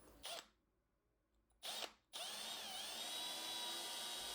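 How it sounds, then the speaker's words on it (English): Drill bit boring into a resin plastic model fuselage: two short whirring bursts, then a longer steady drilling run, all close up and with no voices. "The resin plastic body drills pretty easy."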